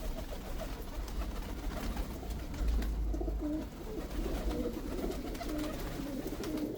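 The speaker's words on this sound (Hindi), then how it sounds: "असराइली कबूतर आया।" Soft, low pigeon coos repeat in short rolling phrases over a busy outdoor background rumble, nearby and without talking.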